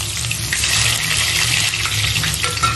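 Chopped onion dropped into hot oil for an Andhra-style pudina chicken curry, a loud continuous hissing sizzle with steady crackle and no pauses.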